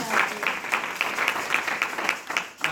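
A church congregation applauding together during a service, steady rhythmic clapping of a crowd in a roomy space, moderately loud and brief.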